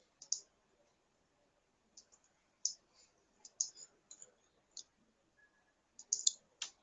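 A computer mouse clicks sharply while someone works through hospital clinic software, with single and double clicks scattered irregularly across near silence.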